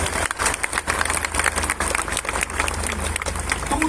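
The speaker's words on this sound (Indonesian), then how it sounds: "Yang percaya beri tepuk tangan untuk Tuhan Yesus." Large crowd clapping at a Pentecost evening rally in a stadium in Kuching, dense, loud, continuous applause with sharp individual claps and a low hum underneath throughout.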